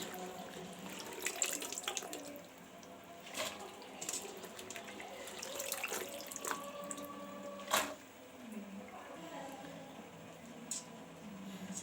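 Tap water runs into a kitchen sink while hitaki avarekai (field beans) are washed, a faint steady splash with small clinks and knocks scattered throughout.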